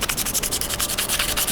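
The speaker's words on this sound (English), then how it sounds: "So just scuffing up the edges." Quick rhythmic back-and-forth sanding strokes scuff the edges of cosplay armour parts, a close, brisk rubbing rasp repeating about eight times a second with no voices.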